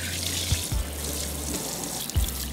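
Running water from a sink tap rinses shampoo out of a person's hair, a steady close splashing flow with a few brief louder gurgles and splashes.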